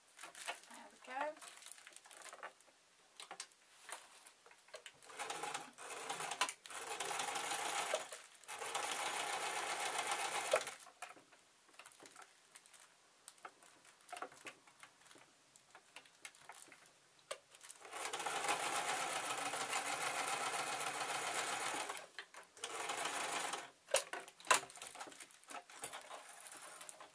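A sewing machine stitches a small rice-filled scrap-cloth juggling bean bag in quiet bursts, several runs of fast whirring separated by pauses, with light handling rustle and a speaking voice in the gaps.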